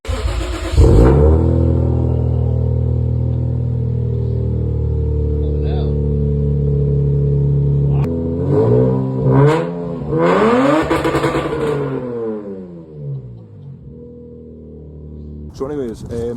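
A Lexus IS200 with a massive exhaust idles with a low drone, then revs up and down several times in a rising and falling roar before settling, close and loud.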